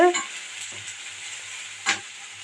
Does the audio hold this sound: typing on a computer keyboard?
no